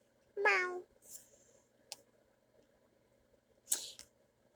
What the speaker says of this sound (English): I have two cats in the background